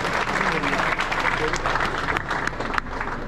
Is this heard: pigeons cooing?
no